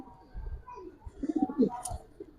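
Giribaz silver pankhi pigeons coo softly in a short burst of low, throaty calls, with faint rustling and background noise around them.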